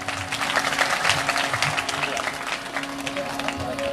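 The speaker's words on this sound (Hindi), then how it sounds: "अब डीजे वाला तो ठहरा, ताली बजाओ इसके लिए।" Audience clapping for the DJ at a Shrimad Bhagavat Katha religious gathering in Garhakota, steady dense clapping mixed with ongoing music and voices throughout.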